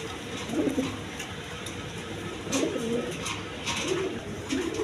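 Pigeons coo in a series of low, rolling bursts at close range, repeating every second or so over a steady background hiss, with no talking.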